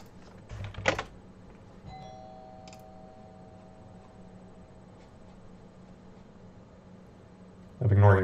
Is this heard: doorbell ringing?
yes